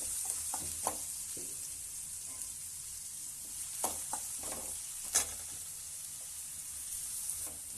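Onions frying until golden brown, a soft steady sizzle with intermittent spoon scrapes and taps against the pan, one louder clack just past the midpoint, fairly quiet and close, with no voices.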